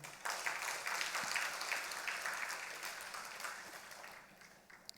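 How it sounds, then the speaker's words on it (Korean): Church congregation applauding in encouragement, a soft, fairly distant wash of many hands clapping that slowly fades over several seconds. "격려의 박수."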